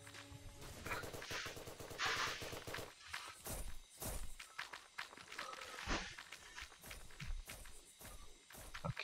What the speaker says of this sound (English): Never good to hear footsteps.